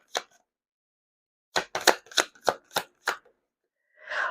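Tarot fortune cards are shuffled in a series of close, crisp riffles and slaps, about seven separate bursts with quiet gaps between them, ending in a softer rustle.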